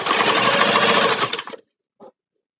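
A sewing machine stitches little craft bags, running in a steady, loud, close whir for about a second and a half before stopping, followed by one brief clack.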